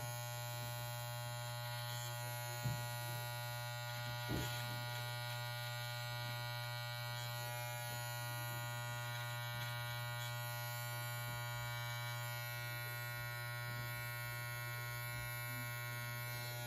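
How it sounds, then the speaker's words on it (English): An electric beard trimmer running continuously with a steady, close, even buzz, a couple of soft taps as it touches the face during a barber's beard trim. "So I'll show you how you can do that with the trimmer."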